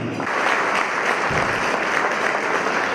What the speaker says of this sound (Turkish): alkış yapan elleriniz sert görmesin değerli dostlar